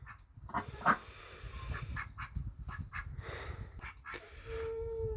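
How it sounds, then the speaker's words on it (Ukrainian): Domestic ducks quacking at a home pond, a series of short nasal calls spread across the clip, with one louder call near the start and a steadier tone toward the end, over low background rumble. "чотири качки"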